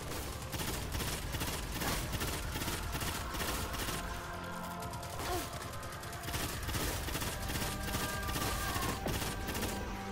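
Rapid bursts of gunfire from the video game Destiny 2, a dense, steady stream of automatic shots running throughout at an even loudness, with other game effects layered in.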